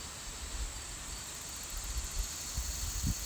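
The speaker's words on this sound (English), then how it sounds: "But you can hear all the cicadas," Cicadas and crickets fill an abandoned mining area with a constant high-pitched buzzing chorus, steady and moderately loud, over faint low outdoor rumble.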